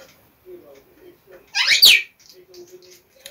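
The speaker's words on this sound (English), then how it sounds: "I've got two parrots and a magpie." A single loud, shrill squawk from a pet parrot or magpie bursts out briefly, nearby, between stretches of quiet indoor murmuring.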